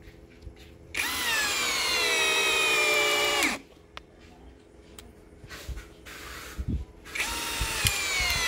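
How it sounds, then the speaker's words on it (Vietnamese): A Gregman 13mm three-function drill in screwdriving mode drives a 7 cm screw into wood, whining loudly in two sustained bursts with a quieter gap of clicks and knocks between them. "em sẽ sử dụng chế độ bắn vít và bắn con vít dài 7 phân vào gỗ"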